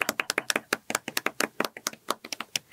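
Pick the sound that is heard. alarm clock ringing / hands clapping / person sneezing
hands clapping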